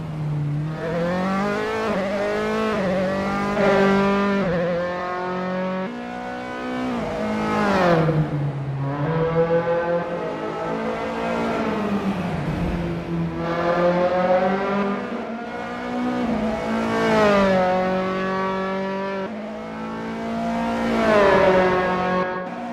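A Dallara F312 open-wheel race car at Rattlesnake Point in Assetto Corsa screams through repeated revving climbs and gear-change drops, loud and continuous, with no voices.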